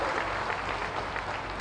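Steady, dense applause from an audience at a public ceremony where the Chief Minister inaugurates development projects in Mau district, sustained and even throughout with no breaks.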